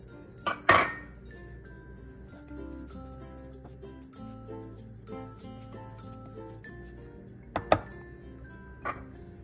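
Desiccated coconut, flour and salt being stirred in a bowl, with soft scraping, faint ringing tones and a few sharp clinks of a utensil against the dish, quiet and close with no talking.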